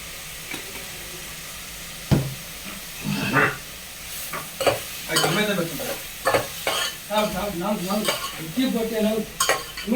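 Coarse rock salt being sautéed in a pan for a simple Tamil kuzhambu, with repeated close spatula stirs and scrapes over a soft frying sizzle, sounding alone without speech.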